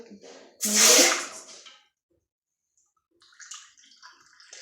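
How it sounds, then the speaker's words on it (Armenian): Two cups of water, about 400 ml, poured into a pot in a home kitchen: a loud, splashing gush for roughly a second that then trails off, followed by silence and a fainter clatter. "այստեղ լցնում եմ 2 բաժակ ջուր, լինելու է 400 մլ"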